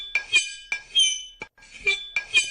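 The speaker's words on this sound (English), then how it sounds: "That is the sound of a knife being dragged along a glass bottle." A knife dragged along a glass bottle, producing short squeaky, scraping screeches in about five separate strokes with brief silences between, close and clear.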